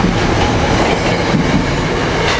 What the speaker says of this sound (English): Here goes 9553 taking off with the rail cars 440, 439, 164, 163.